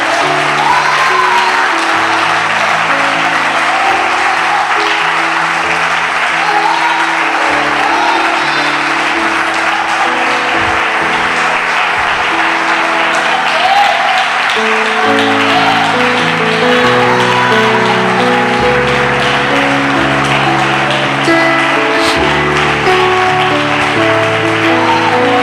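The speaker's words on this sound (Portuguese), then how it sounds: "Aplauda bem forte ao Senhor." A church congregation claps loudly and steadily for about twenty-five seconds, a dense, continuous wash of applause with organ or keyboard chords sustaining underneath.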